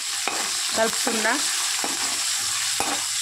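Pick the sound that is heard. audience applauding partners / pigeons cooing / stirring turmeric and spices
stirring turmeric and spices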